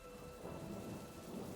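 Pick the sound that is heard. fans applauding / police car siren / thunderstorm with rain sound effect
thunderstorm with rain sound effect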